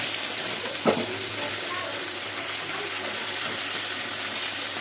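Potatoes frying in oil in a pan for a snake gourd curry, a steady close sizzle running throughout with a couple of faint clinks and soft stirring.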